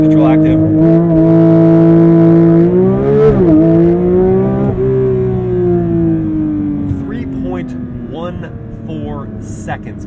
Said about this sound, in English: hold your foot hard on the brake, pin the throttle, launch control active